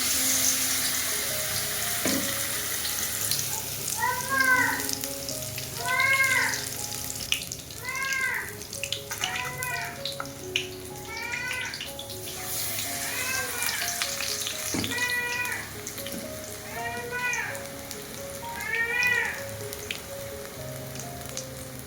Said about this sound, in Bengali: এবার একটা একটা ভেজে নেব, 2-3টে কুলেখাড়া নিয়ে ভেজে নিচ্ছি